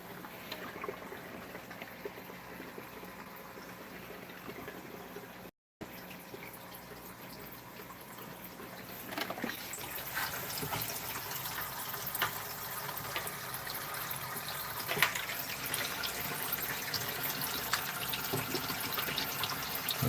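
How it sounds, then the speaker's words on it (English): Fresh water pours steadily into a cichlid aquarium through an Aqueon water changer hose, a continuous rushing, splashing flow that grows louder and fuller partway through, with no talking. "filling the tank with some fresh water."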